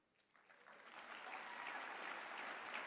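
An audience at a speech breaks into applause that starts quietly and quickly swells into full, dense clapping. It stays loud and steady through the short stretch.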